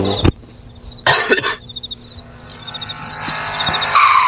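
A car engine in the game Hitch a Hike revs and whines under a sharp bang and a burst of noise, with tires squealing as the engine noise builds toward the end.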